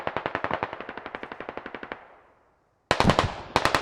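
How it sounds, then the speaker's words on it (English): Rapid automatic gunfire in the video game Squad: a tight run of about twenty sharp shots that trails off into echo, a short silence, then two more bursts of loud firing. "He's shooting at someone."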